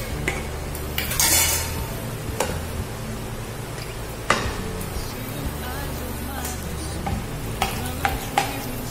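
Oil and butter hitting a hot pan give a steady sizzle with utensil scrapes and clinks, and a brief louder hiss near the start, while a person speaks over the cooking.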